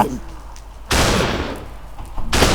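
Fireballs shot by a blaze in the Nether in Minecraft, heard as two loud, sudden bursts of whooshing blasts that cut in abruptly and hang for about a second, after a quieter stretch.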